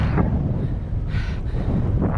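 Steady low rumbling wind buffets the microphone throughout, with a gust of breathy hiss midway, outdoors in the Causses du Quercy, France; no voices.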